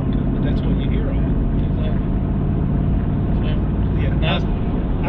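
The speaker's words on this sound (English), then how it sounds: "And you can hear the factory exhaust." A steady, loud engine rumble with a deep low-end drone from a supercharged 7.3L Godzilla V8 pickup truck through its factory exhaust runs throughout, while a voice talks over it.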